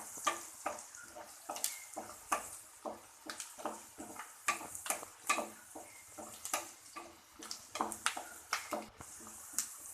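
Turmeric and cumin seeds fry in oil in a pan while cooking a pasta dish, giving steady close sizzling broken by sharp crackles and occasional stirring clicks, with no talk.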